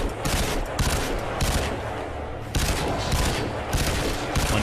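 Sustained automatic gunfire from Crysis 2 plays loud and close, in dense rattling bursts with a brief lull midway before the shooting resumes.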